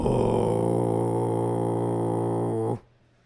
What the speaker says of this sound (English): a throat singing technique called kargara